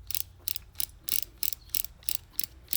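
Crisp mechanical clicks from the action of an 1885 Hopkins & Allen .38 S&W top-break revolver being worked, about nine sharp ratcheting snaps in a steady rhythm, close and fairly quiet with no talking.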